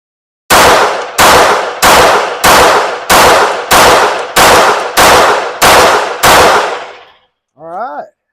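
Ten loud, close pistol gunshots fired at target practice, evenly spaced about every 0.6 seconds with sharp cracks and short ringing tails, followed by a brief voice.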